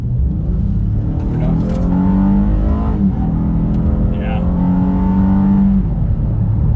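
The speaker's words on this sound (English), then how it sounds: "Acceleration, well, it does have that punchy little V6." A 2021 Honda Ridgeline Sport with a V6 accelerates with a loud, steady engine drone whose pitch climbs and falls as it pulls away, heard from inside the cabin.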